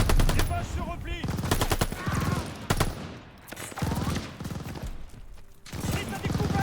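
Dense bursts of automatic and single-shot gunfire from the Call of Duty Vanguard campaign, a tent under attack, loud and near, with brief pauses between volleys.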